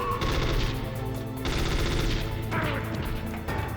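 Gunfire rattles through the Hind helicopter fight in Metal Gear Solid, dense and continuous over a steady low engine-like drone, loud and close with short breaks between bursts.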